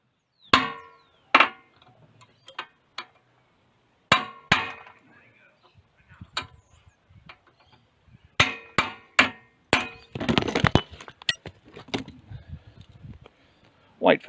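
Hammer striking a go-kart part in a series of sharp metallic blows, some single and some in quick clusters, close and loud with brief pauses between hits.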